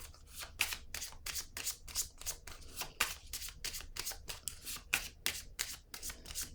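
Playing cards shuffled by hand in quick repeated riffles, a steady run of crisp papery bursts close up, with no talking.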